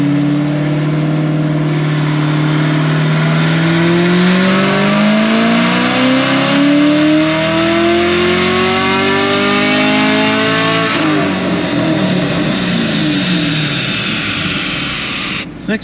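A lightly modified Camaro ZL1 on a dyno climbs through a long, loud rising engine howl for about eleven seconds, then cuts back to a rougher, lower burble.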